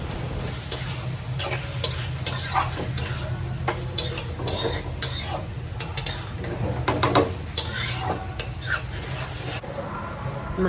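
Fish with chopped coriander is stirred in a pan, a close, busy scraping and clattering of the spoon over a continuous frying sizzle, with no talk.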